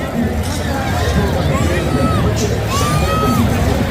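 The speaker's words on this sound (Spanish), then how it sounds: "Y aplauso de la grada del Getafe." Football crowd in the Getafe stadium stands applauding and cheering after a match, a loud continuous roar of clapping and hubbub with occasional whistles and shouts rising above it.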